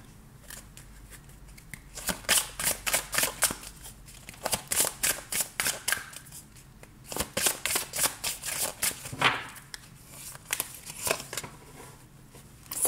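Tarot cards gathered and shuffled for a reading, bursts of fast, rhythmic riffling flicks with short pauses between, close and crisp with no voices.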